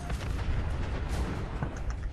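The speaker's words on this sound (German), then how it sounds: "obwohl ich 2 nukleare Explosionen auf euch gefeuert habe" Nuclear explosions fired in the video game Fallout 4, a dense continuous roar of booming blasts and rumbling debris, moderately loud.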